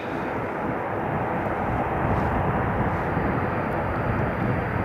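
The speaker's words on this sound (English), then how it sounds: "here's the Turkish Airlines A321, just lining up on the runway" A Turkish Airlines Airbus A321 lines up on the runway at Riga International Airport in freezing, snowy weather, its engines giving a loud, steady, broad roar that holds without break throughout.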